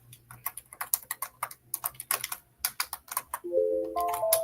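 Typing on a computer keyboard in a quiet home office, a rapid, uneven run of close, crisp key clicks, after which a soft electronic alarm tone with a few rising notes comes in near the end.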